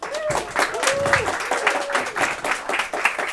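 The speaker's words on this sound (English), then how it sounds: "please join me in giving a round of applause for our speaker of the night, Macken Murphy" Lecture audience applauding a speaker, a dense burst of clapping lasting a few seconds with a voice briefly audible over it.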